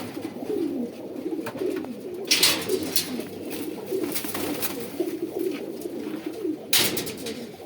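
Pigeons of a brown (khoira) breed, a breeding pair kept in a loft, coo steadily in low, throaty rolling phrases, close by, with a few louder rustling bursts and no talking.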